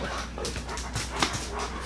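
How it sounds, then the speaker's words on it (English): A dog whimpers softly in short, faint whines against steady low background noise, with no one talking. "That dog's a mauler."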